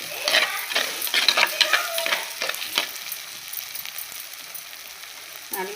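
Tomatoes sautéing in a pan for a sankara fish curry give a close, crackling fry with scattered scrapes and clinks of a spoon stirring, busiest early on and then settling into a softer, steady sizzle with no one talking.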